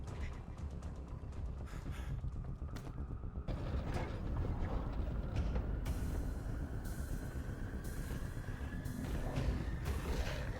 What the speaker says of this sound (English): you can open the door.